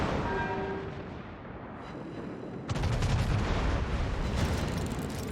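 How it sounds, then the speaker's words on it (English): Secondary guns of the Hannover warship in World of Warships fire in a continuous loud barrage, booming shots layered over rumbling battle noise that grows heavier partway through. "you have your improved secondaries going off here"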